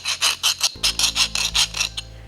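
A metal file scraping the tang of a knife made from a hardened drill bit, heard as about a dozen loud, rhythmic gritty rasping strokes close up, with a low hum joining partway through.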